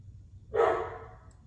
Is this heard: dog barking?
yes